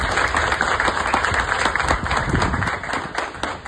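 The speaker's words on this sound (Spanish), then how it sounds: "Un fuerte aplauso para todos." An audience applauds at an outdoor tourism ministry event marking the start of works, with quick, irregular claps over a noisy, somewhat distorted background.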